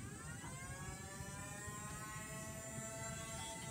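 A steady high-pitched motor whine hums continuously from the spinning flywheels of a Strife foam dart blaster, a constant electric revving drone with no pauses.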